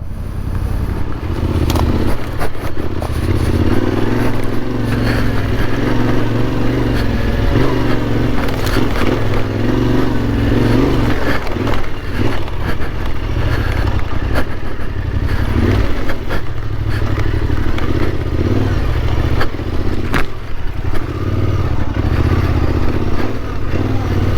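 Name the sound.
Yamaha Tenere 700 motorcycle riding off-road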